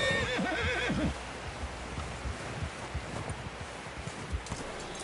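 A horse whinnies loudly in Red Dead Redemption 2, its wavering neigh filling the first second before fading into a steady outdoor bed of rustling, clip-clopping hooves and ambient noise.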